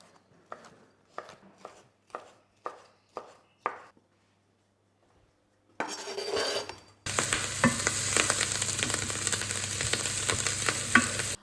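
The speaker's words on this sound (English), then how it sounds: "I'm going to chuck this all in the fry pan and" Bacon and onion hit a hot fry pan with a sudden loud, steady sizzle that crackles continuously up close, after a series of rhythmic knife chops and a brief scraping tip-in.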